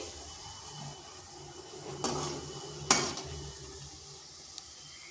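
Snacks frying in oil in a pan over slow to medium heat, a low steady sizzle broken by two sharp scraping clatters of a spatula stirring against the metal.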